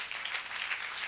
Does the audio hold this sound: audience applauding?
yes